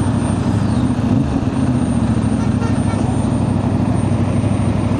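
Road traffic on a busy street near a fireworks market, with a steady low rumble of engines from buses, trucks and cars that stays constant and fairly loud throughout.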